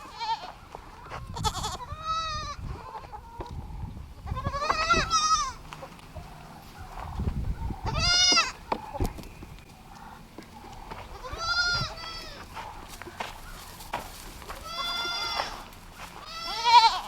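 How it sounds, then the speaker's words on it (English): Baby goats bleating on a farm, a string of high wavering cries at irregular intervals, some close and loud, others softer, with quiet background noise between calls. "The goat babies are all doing good and still growing."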